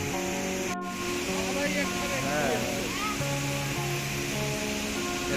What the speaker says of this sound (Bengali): দেখো কি সুন্দর ঝর্ণাটা পড়ছে উপর থেকে।